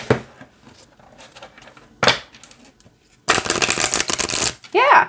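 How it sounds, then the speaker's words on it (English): A deck of slippery oracle cards is shuffled in a few quick riffling bursts, the longest lasting about a second, between quieter handling sounds, with a brief voice at the end. "let's see how it shuffles"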